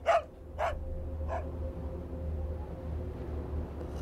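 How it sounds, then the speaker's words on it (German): Dog barks in the video game Grim Facade 2, three sharp barks in the first second and a half over a steady low game ambience and music bed, then only the background continues. "Wie kommt der Hund auf einmal auf die andere Seite?"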